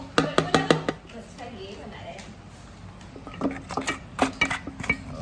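A spoon clinks rapidly against a container while a drink is mixed, with bursts of close metallic tapping at the start and again near the end, and a voice talking in between.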